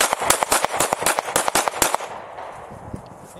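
Rapid gunfire at a shooting range, about a dozen sharp, loud shots in quick succession over two seconds, then a fading echo and quiet.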